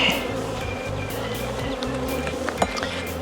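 Honeybees hum steadily over a full frame of brood at an open hive, a dense, close, continuous buzz with no voices.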